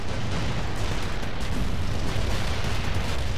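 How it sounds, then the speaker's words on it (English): An artillery barrage in the World in Conflict strategy video game rumbles as a loud, continuous wall of booming explosions with no pause. "Artillery barrage inbound."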